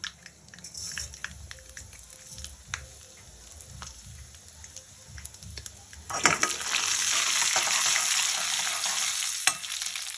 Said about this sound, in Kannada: ಇದಕ್ಕೆ ಸಾಸಿವೆಯನ್ನು ಹಾಕೋಣ. ಜೀರಿಗೆ ಪುಡಿ ಹಾಕ್ತಾ ಇದ್ದೀನಿ.